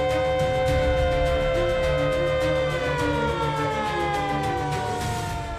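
A civil defense air raid siren sounds during a mock drill, loud and continuous, its wailing tone sliding slowly downward with no voices over it.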